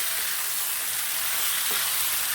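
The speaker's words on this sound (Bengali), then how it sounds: "চিকেনটাকে একটু ভাজা ভাজা করে নেবো এবার একটু নাড়াচাড়া করে নেবো" Lemon-marinated chicken fries and sizzles in a pan for a Bengali coriander chicken dish, giving a steady, dense hiss with a faint stir partway through and no talking.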